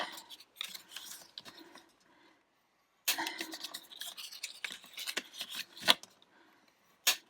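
Folds of a handmade pop-out paper card are burnished, producing close, dry scraping rubs in short strokes, with a quiet gap before a denser run of scratchy passes.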